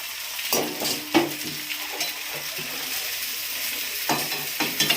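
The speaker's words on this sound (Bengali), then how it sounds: "এটাকে আমি এরকম ভাবে অনর্গল নাড়বো, নাড়তে নাড়তে নাড়তে নাড়তে শুকনো হয়ে গেলে তারপর নামাবো" Ground chana dal, grated coconut and sugar are stirred in ghee for barfi, producing a low, soft sizzle under repeated scraping strokes of a spoon against the pan. Nobody speaks.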